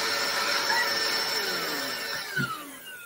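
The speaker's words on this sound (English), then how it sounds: "what if we combine a leaf blower with a toilet paper roll?" A leaf blower roars steadily indoors, feeding a toilet paper roll that unspools with a broad, rushing whine that sweeps and fluctuates, loud and continuous with a brief thump near the end.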